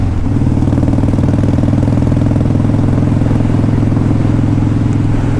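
A 2002 Harley-Davidson Dyna Wide Glide engine runs loud and close, with a steady, deep, rhythmic idle throb throughout and no talk.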